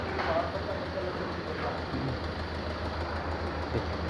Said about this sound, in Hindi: ये इंजन साउंड कर रहा है।